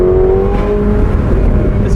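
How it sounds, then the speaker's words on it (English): A loud, deep V8 rumble from a 2024 McLaren 750S convertible with retuned exhaust, a throaty tone holding steady and close with no talking. "This is a more exotic sounding V8 now with this retuned and recalibrated exhaust"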